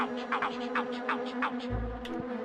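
Bees buzzing in the PS1 Grinch video game, a series of rapid rising buzz passes over a steady background tone, close and prominent, ending with a low thud.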